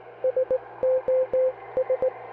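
SOS Morse code signal tapped out as a steady tone in three short, three long and three short pulses, clear and alone over a low background hum.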